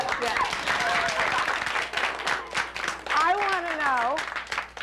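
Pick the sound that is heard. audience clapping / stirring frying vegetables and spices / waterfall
audience clapping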